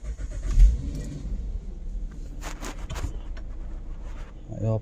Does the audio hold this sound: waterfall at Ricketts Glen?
no